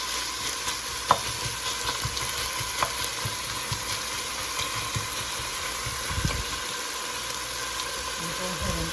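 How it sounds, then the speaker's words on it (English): Onions sizzle steadily in a pan as the base for a lentil dish, a soft continuous fry with occasional stirring clicks and scrapes close by, while a voice talks intermittently over it. "So I'm just going to cook this for a couple of minutes and let those onions kind of get"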